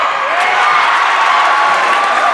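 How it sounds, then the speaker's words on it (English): A boys' high school basketball crowd in a gym reacts to a missed free throw with a sustained, loud murmur and cheer that carries evenly through the moment. "you guessed by the crowd noise, he missed"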